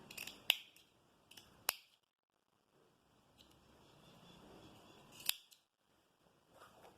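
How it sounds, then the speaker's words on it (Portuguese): Scissors snip the end of a zipper while a pleated skirt is being sewn, several sharp, close clicks spaced apart over a quiet background with faint rustling of fabric. "a gente pode cortar aqui esse pedacinho do zíper"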